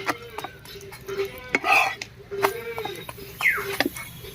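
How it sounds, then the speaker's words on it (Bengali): Cauliflower paratha frying in a pan with a little white oil, turned over and over with a spatula: scattered light clinks and scrapes of metal on the pan, moderately close, with soft frying noise between them. "দিয়ে উল্টে পাল্টে বেশ ভালো করে ভেজে নেব"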